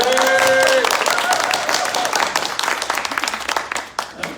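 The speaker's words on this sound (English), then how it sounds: "Everyone give another round of applause for that" Town hall audience on social housing applauding, a dense wash of clapping that starts loud and gradually thins into scattered claps as it fades.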